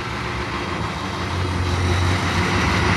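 A 1987 International S1700 bus diesel engine cranks and catches, settling into a loud, steady low rumble that swells slightly as it runs.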